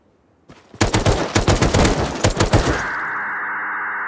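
Sniper rifle fire in the survival game Rust comes as a loud, close, rapid string of about a dozen cracking shots over two seconds, followed by a steady high ringing tone with no talking.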